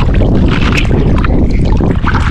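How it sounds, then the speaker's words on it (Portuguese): Wind buffets the microphone on a boat during a freshwater fishing trip for peacock bass with live bait and a telescopic rod, a loud, steady rushing roar with no talk. "Esse vento aqui"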